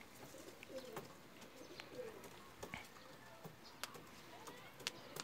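Lal Badshah pigeons coo softly in a loft, low repeated burbling calls with occasional faint clicks and flutters in the background, fairly quiet overall.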